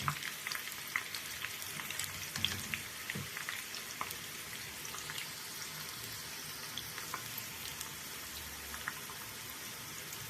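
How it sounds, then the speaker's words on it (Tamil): Garlic and curry leaves frying in hot oil for an evening snack. A continuous fine crackling sizzle stays fairly quiet throughout, with a few light stirring knocks and no speech. "லாஸ்ட்டாக வறுக்கிறச்ச பூண்டு கொஞ்சம் கருவேப்பிலை போட்டுக்கலாம்"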